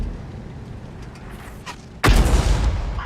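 An artillery gun in World of Tanks fires once with a single loud, sudden boom that rings out and lingers, following a steady low rumble of ambient battlefield noise.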